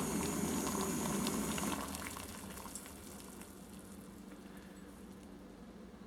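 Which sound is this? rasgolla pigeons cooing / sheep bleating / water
water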